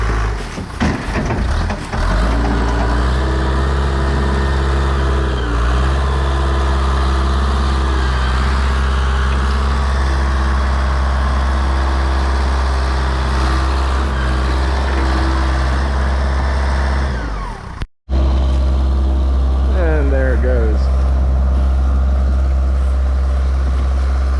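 A backhoe's diesel engine runs steadily with a deep, loud drone throughout while junk cars are pulled out of the woods, briefly cutting out near the end before resuming.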